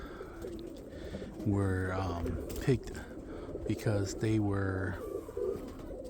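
Roller pigeons in a loft give a few deep, rhythmic coos in short bursts, near and moderately loud, with someone talking over them throughout.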